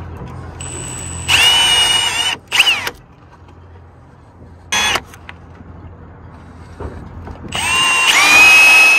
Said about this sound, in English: Now I gotta find an appropriately sized drill bit so I can drill these holes.